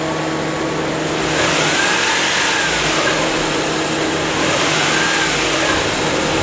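A car engine revs steadily as it accelerates, a loud, close, sustained mid-pitched drone that holds throughout with no talking.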